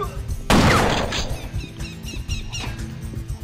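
A loud, close shotgun blast in the first-person shooter Will Rock booms out and then decays. Quieter clattering and crackling game effects follow in the background.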